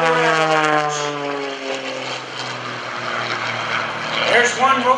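A propeller airplane engine roars and whines during an airshow aerobatic routine, its pitch sliding down then rising again as the plane climbs straight up and rolls, loud and steady throughout.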